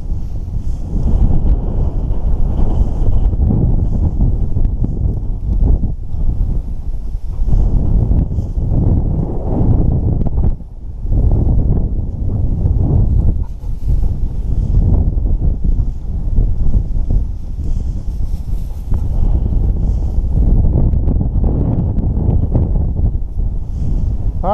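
Strong wind buffets the microphone continuously for the whole stretch in an open Nebraska field during a quail and pheasant hunt, a loud, low rumbling roar that swells and dips slightly with one brief lull.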